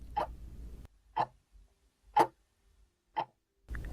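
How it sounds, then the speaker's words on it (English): A clock ticks steadily in a quiet room, with four distinct ticks about a second apart, close and clear against near silence. "Maybe the ticking of a clock,"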